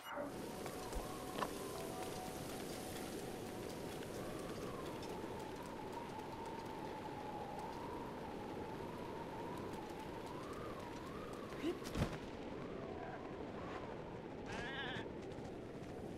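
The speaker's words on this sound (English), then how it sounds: "Still raining, that's unfortunate." Steady rainfall in Zelda: Breath of the Wild, a soft continuous hiss held low and even throughout, with a faint tonal line running beneath and a couple of brief ticks.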